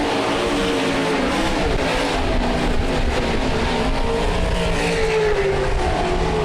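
Race cars lapping the dirt oval at Rapid Speedway during a Nationals night event, a dense, continuous engine roar with rising and falling revs as the pack circles, loud and steady with no pauses.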